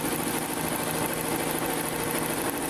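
A Blue Sky 1501 sewing machine runs steadily with a continuous close mechanical hum and rapid needle chatter, with no pauses or voices.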